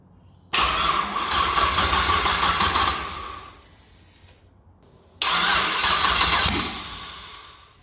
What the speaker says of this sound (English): this is the starter motor